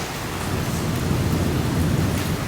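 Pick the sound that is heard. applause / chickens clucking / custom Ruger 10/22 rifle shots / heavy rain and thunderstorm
heavy rain and thunderstorm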